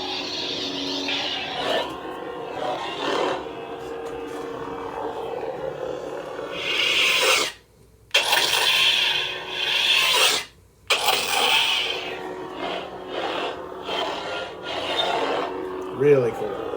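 A lightsaber tip drag using the Sons of Corellia sound font on a Corran Horn speeder bike hilt, heard as a sustained harsh grinding rasp with a steady hum beneath, cut twice by brief near-silent gaps.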